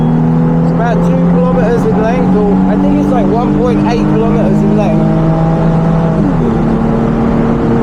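A Nissan 350Z with a Veilside kit accelerates down a race track straight in Japan, a loud, steady engine drone rising in pitch through a gear change, with someone talking over it from inside the car.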